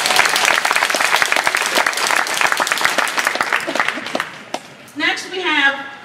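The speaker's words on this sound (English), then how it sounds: "Give me an applause for that." An audience at a Toastmasters conference business meeting breaks into dense, loud applause that tapers off, followed by a voice speaking near the end.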